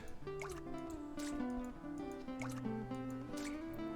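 Milk poured into a bowl during bread-making in a bakery simulator game, several gentle liquid drips and glugs spaced across a few seconds, sitting under a continuous melodic background track at low level.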